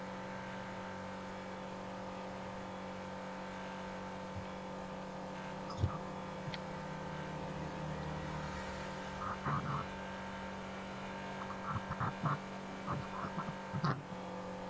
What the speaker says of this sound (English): Cars a little noisy, but it works.